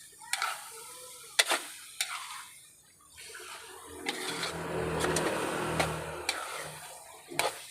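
Spicy bagoong with red chili is stirred in a pan, the spoon scraping and clinking in irregular strokes over a soft oily sizzle, close and alone without talk.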